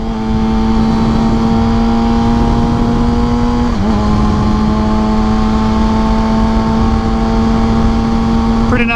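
Motorcycle engine running steadily while riding through evening traffic, a loud continuous drone with a brief dip and change in pitch midway, close and constant throughout, no talking heard over it.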